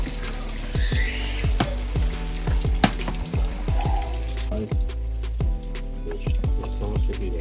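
Garlic shrimp frying in a pan, a steady close sizzle punctuated by repeated sharp clacks and scrapes of a utensil stirring and flipping, with a low hum underneath.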